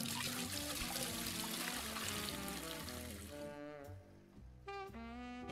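Water pouring for fish in the Aquarist video game, a steady trickling stream under game music that thins out and briefly pauses near the end.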